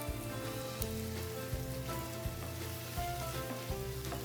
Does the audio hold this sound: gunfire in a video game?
no